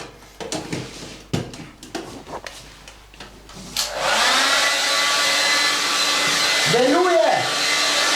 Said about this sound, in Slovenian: Takole, tole je fen